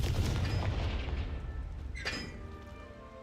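A Confringo explosive spell blast in Hogwarts Legacy, a deep booming burst that decays over a few seconds, followed by a brighter magical crackle midway.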